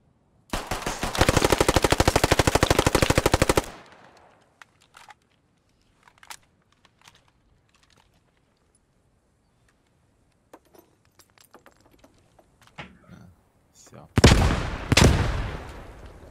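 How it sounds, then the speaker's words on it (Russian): A long burst of loud gunfire and a later grenade explosion in the video game Post Scriptum, with scattered quieter clicks and distant shots in between. "Рядом граната легла, да."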